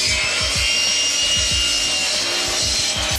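A hand wood saw cuts through wood in quick, regular back-and-forth strokes, a close rasping rhythm of about two strokes per second that continues throughout.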